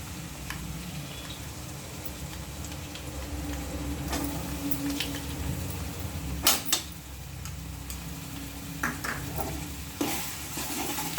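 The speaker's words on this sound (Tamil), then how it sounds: "நல்லா பூண்டு வந்து நல்லா பொரியட்டும்" Garlic frying in oil in a pan for garlic pickle, a soft continuous sizzle with occasional stirring scrapes and small taps, fairly quiet and without voices.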